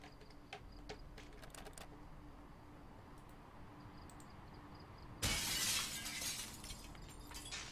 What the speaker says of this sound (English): Well, we can smash the window.